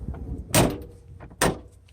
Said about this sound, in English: So I'm going to close the door again.